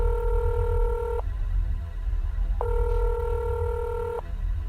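Telephone dialing tones sound while a call is placed in a Nancy Drew game. Two long, steady beeps ring out loud and clear over a low hum, with a short pause between them.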